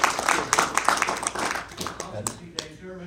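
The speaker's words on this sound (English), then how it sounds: "let's give him a round of applause for getting engaged" Audience clapping at an agricultural representatives' meeting, a scattered burst of hand claps that thins and fades over a few seconds, fairly close.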